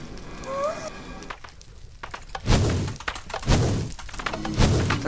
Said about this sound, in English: And it shoots fireballs.